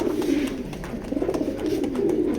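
Racing pigeons in a loft coo continuously in low, throaty, overlapping calls, close and fairly loud, with faint clicks and shuffles underneath.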